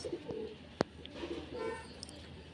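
Racing pigeons at a loft in Pappanamcode, Thiruvananthapuram, give soft, low cooing calls in a few short phrases, faint against quiet background noise with one sharp click.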